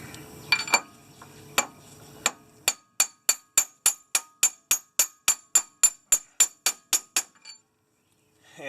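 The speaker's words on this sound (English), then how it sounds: "And I take my favorite little hammer, a little mini little ball peen hammer." A mini ball peen hammer taps on the CV axle of a Mercedes W123: a few irregular knocks, then a steady run of about fifteen sharp, bright metallic clinks, close and evenly spaced, with no talk.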